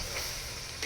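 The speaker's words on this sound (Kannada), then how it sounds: "ಎಣ್ಣೆಲಿ ಫ್ರೈ ಆಗ್ತಾ ಇದೆ" Mutton frying in oil in a pan at an outdoor farm kitchen, a steady close sizzle with brief bursts of crackle and stirring, no voices.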